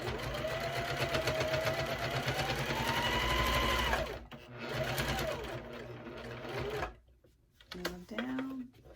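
A sewing machine stitches in loud, rapid bursts, stopping with the needle down as the fabric is pivoted, then starting again. Short whirring runs are separated by pauses, with talking in between.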